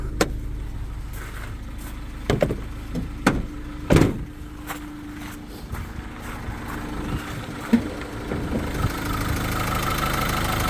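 A 2019 Renault Master L1H1 van with a manual gearbox and about 186,000 km idles steadily, its low hum broken by a few sharp clicks and thumps, with no talking.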